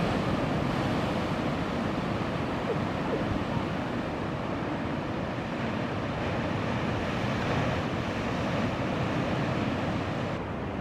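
Ocean waves on the Oregon coast on a sunny day, a continuous broadband surf wash with wind, steady and fairly near throughout with no distinct individual breakers.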